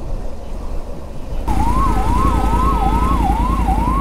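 An ambulance siren suddenly starts up close, cycling rapidly in a rhythmic yelp over the loud rumble of surrounding traffic.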